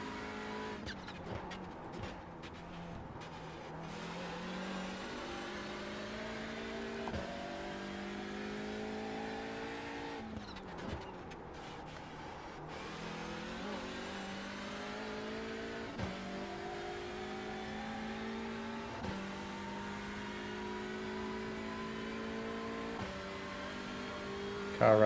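A TCR race car engine in iRacing at Long Beach revs up and drops with repeated gear shifts, rising tones cut by sharp changes, with occasional tire squeal and a voice talking over it.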